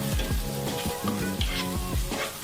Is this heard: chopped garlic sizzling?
yes